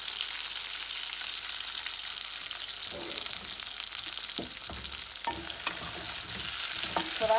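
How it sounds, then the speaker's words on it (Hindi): Fried onions go into a hot pan over medium heat with red chili and cumin, giving a steady soft sizzle with scraping stir strokes that grow busier and louder toward the end. "अब इसमें मैं फ्राइड अनियन ऐड करूँगी, और इसकी आंच को मैं मीडियम पे कर दूंगी।"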